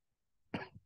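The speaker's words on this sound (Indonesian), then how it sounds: "Ini emang agak batuk saya ini" A single short, near cough from a man, dry and abrupt, in an otherwise quiet room during a spoken Bible reading.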